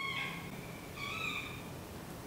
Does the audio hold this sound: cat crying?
yes